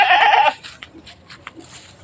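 A goat bleats loudly and close for about half a second, followed by softer, shorter bleats and scattered farmyard noises.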